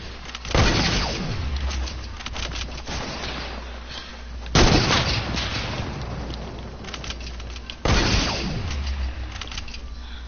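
Three heavy gunshots in a video game, spaced about four seconds apart, each a loud booming crack that trails off into a long echoing decay over a low steady hum.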